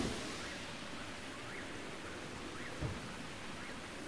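Steady rain falls in the video game Zelda Breath of the Wild, a soft continuous hiss with a faint low rumble, even and unbroken, no voices.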